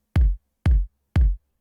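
Three unfiltered kick drum samples hit at a steady half-second pace, each with a sharp bright click on top of a deep thump, loud and isolated.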